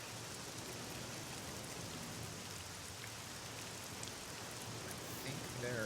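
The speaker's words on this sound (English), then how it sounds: "It's raining." Steady, even rain hiss in the video game DC Universe Online, a dense continuous patter with no breaks, swelling slightly at the very end, heard alone without voices.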